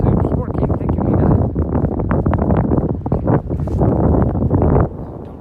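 Gusty wind buffets a microphone outdoors on a very windy day along the Camino de Santiago, loud continuous rumble and rustle that drops suddenly near the end, with voices talking beneath.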